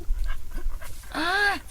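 A dog pants close by, a quick run of breathy huffs followed by a short, rising whine-like vocal sound.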